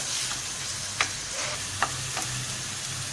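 Onions frying in a pan for a meat stew, a steady hiss with a few sharp clinks and scrapes as they are stirred, close and alone with no voices.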